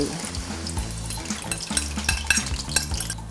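Cha-om leaves sizzle and bubble in hot oil, with metallic scraping of a pan and a low hum running underneath.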